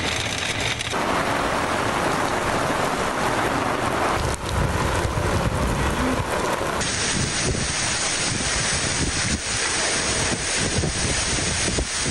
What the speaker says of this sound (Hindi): शदीद गर्मी के बाद रावलपिंडी और इस्लामाबाद में तेज़ हवाओं के साथ तूफ़ानी बारिश।